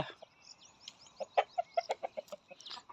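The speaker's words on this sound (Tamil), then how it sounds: "பூரா சேவலாக தான் இருக்குது." A run of short, close clucks from a fighting rooster, about eight quick calls in an uneven rhythm, with fainter birdsong in the background.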